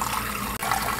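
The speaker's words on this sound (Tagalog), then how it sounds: "Kailangan guys, banlawan natin yung ating potato." Sliced potatoes are rinsed under running water, a close, continuous splashing rush that barely pauses for an instant midway.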